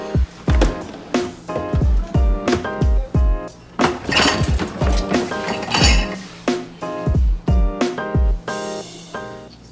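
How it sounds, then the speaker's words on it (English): Dishes, pots and utensils being washed and tidied in a home kitchen: a busy run of sharp clinks, clatters and ringing knocks of crockery and cutlery, close and loud, in irregular bursts with brief gaps. "So I'm going to go do some dishes and tidying up"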